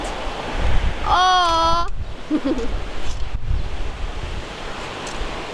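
Ocean surf washes against the shore in a steady roar mixed with wind buffeting the microphone, and a voice briefly exclaims partway through.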